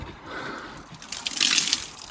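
Water trickles and splashes from a garden compost bin, a soft wet patter that grows louder in the last second.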